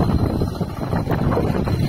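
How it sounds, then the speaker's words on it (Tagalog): Steady, gusty wind roaring and buffeting the microphone over a farm field during land preparation, a continuous low rumble with no talking. "Mahangin sa bukid."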